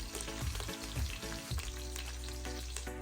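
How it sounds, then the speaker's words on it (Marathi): Curry leaves hit hot oil with lightly browned garlic, a loud crackling sizzle with sharp spits as they drop in, then settle into a steady fry. "सावकाश टाकायचा कढीपत्ता नाहीतर अंगावर उडतो"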